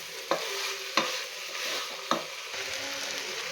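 Okra frying in a pan with onion and tomato, a steady close sizzle broken by three sharp clinks of a spoon stirring against the pan.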